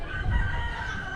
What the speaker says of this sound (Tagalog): May mga manok, naririnig mo.